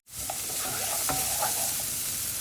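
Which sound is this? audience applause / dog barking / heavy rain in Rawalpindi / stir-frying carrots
stir-frying carrots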